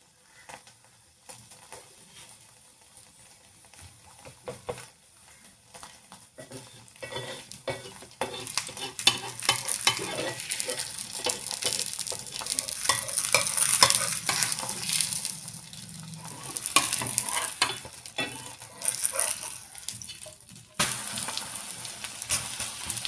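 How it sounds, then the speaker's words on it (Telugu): A tomato and wheat flour chapati fries in oil on a pan, with a steady close sizzle that grows louder after the oil is added and stirring or scraping sounds throughout, with no voices. "ఒక స్పూన్ అంతా నూనె ఇట్లా చుట్టుగా చపాతీ చుట్టూ ఇడుచుకుందామండి"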